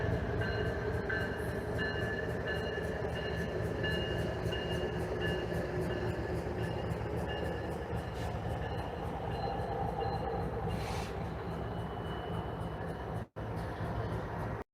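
A train rolls past a level crossing with its bells ringing, a steady loud rumble of wheels and cars with high ringing tones on top, continuous for the whole stretch with one brief cut near the end.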